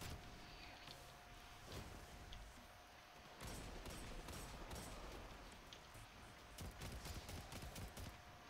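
Rage SMG gunfire in a video game, rapid bursts of automatic fire that come and go, loud and close, over a constant background hum.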